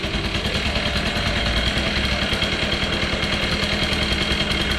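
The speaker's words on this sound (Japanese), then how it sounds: "今日はもうエンジンかかったんでね、見とってくださいよ。 一発かかりますよ。" A long-stored old Yamaha Passol scooter engine, just brought back to life, idles steadily and close by, a dense, even buzzing rumble with no pauses or voices.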